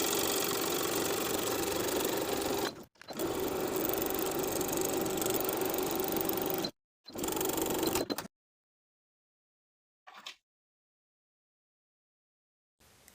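Sewing machine stitching just above a waistband seam on kite pants, a steady mechanical whir running in long bursts with brief pauses, then stopping into silence with one short final burst.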